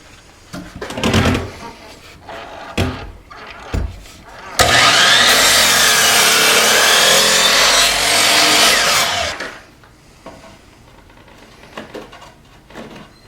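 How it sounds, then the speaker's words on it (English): Handsaw cutting a scrap wooden board into two 45-degree triangle braces, a loud steady stretch of sawing lasting several seconds between quieter handling knocks and brief talk. "I'm just going to take this board and cut 2 triangles at 45 to put at the ends here for braces"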